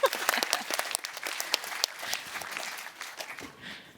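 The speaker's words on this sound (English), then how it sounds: "Can we applaud that?" Audience applause at a medical AI panel session, a burst of dense clapping from a seated crowd that starts strong and gradually thins over a few seconds.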